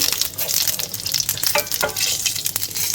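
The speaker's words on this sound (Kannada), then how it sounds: "ಇಂಗನ್ನು ಕೂಡ ಒಂದೇ 1 ಸೆಕೆಂಡ್ ಫ್ರೈ ಮಾಡಿಕೊಂಡು" Asafoetida and mustard seeds frying in hot oil for a rasam, giving a steady close crackling sizzle with sharp pops and spoon scrapes throughout, no voices.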